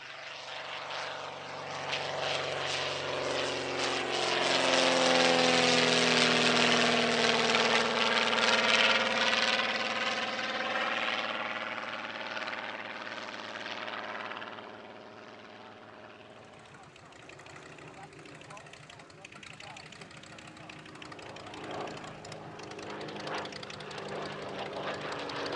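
A 1934 vintage racing aircraft, David Beale's Mk.I with a 165-horsepower engine, flies past at an airshow, its propeller drone swelling loud and then fading into the distance while a commentator talks over it.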